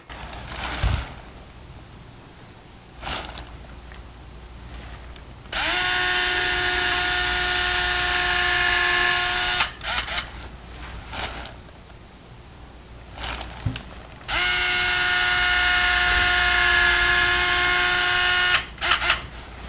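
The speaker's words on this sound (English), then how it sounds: "So during the drilling process" Surgical drill boring into ankle bone for a tension band plate screw: two sustained high whirring bursts of about four seconds each, separated by short clicks and quiet handling sounds, close and alone.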